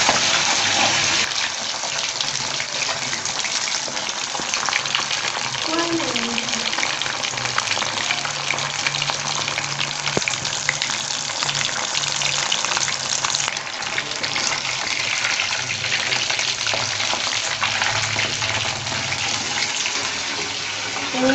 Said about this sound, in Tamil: எண்ணெய் சூடாக வச்சுட்டு பொரியுது